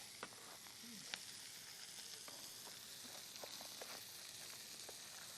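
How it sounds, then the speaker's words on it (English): Shrimp sizzling in hot oil in an Italian restaurant kitchen: a faint, steady frying hiss with scattered small pops and crackles, close by and without talk. "start putting the shrimp in that oil."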